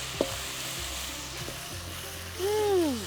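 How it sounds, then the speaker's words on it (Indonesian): Spice paste sautés in a pan with a steady background sizzle, broken by a few scraping stirs and a louder hissing burst near the end, no talk. "Sekarang kita tumis bumbunya dulu ya."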